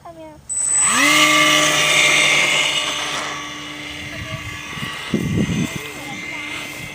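A small RC plane flies on a windy day, its whining electric motor climbing in pitch, then holding a steady drone with wind buffeting, while a person talks over it.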